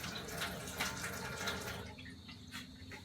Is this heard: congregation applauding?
no